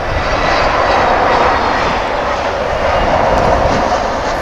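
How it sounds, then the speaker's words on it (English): Jet engines on a Boeing 787 Dreamliner rev up at DFW Airport, a loud, broad, continuous roar that holds steady throughout with no voices. "I do see the big Dreamliner behind it revving up"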